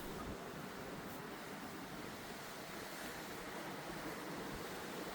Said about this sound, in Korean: 파도가 쳐서 이 계단까지 다 올라옵니다.